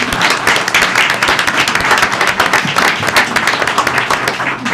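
Loud, dense applause from an audience at a city council meeting after the police chief's speech, steady rapid clapping sustained throughout with a slight swell and dip.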